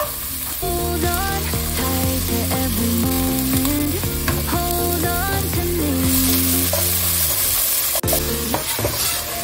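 Ground meat fried with chopped onion and garlic for lasagna sizzles steadily in a pan, a constant hiss and crackle with occasional stirring, partly under loud background music.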